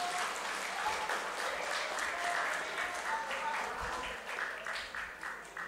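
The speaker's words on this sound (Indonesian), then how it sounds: "Tepuk tangan untuk Mas Ibnu," Audience applause at an Islamic school anniversary gathering, clapping for Mas Ibnu, dense and steady at first, then thinning into scattered claps and fading near the end.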